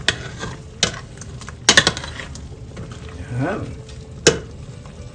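Pork adobo in annatto-tinted oil fries in a pan with whole garlic cloves, giving a steady low sizzle punctuated by a few sharp metallic clanks from a utensil, while a voice briefly speaks.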